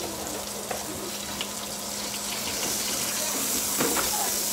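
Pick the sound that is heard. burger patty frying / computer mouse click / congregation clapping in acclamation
burger patty frying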